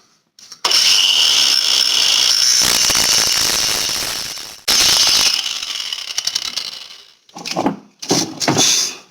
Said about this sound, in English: right now, angle grinder is going to do the job